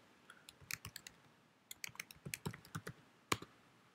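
Someone types a login username and password on a computer keyboard with a run of distinct key clicks in uneven bursts, including a few louder strikes. The clicks are close and fairly quiet, and nobody speaks.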